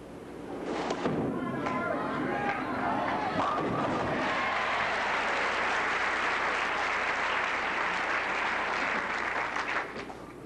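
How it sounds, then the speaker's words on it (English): Appreciative applause from a capacity crowd at a 1983 professional bowling tournament. It begins over a brief voice and some thuds, then swells into dense, loud, sustained clapping that holds for several seconds before stopping. "Appreciative applause here by this capacity crowd"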